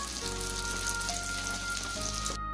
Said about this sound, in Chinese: 翻面后再烙90秒，